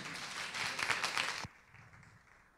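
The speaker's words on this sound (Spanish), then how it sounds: "aplaudan a Manik." Audience at a climate entrepreneurship summit in Medellín applauding a speaker, a short burst of clapping that stops abruptly after about a second and a half, leaving quiet room tone.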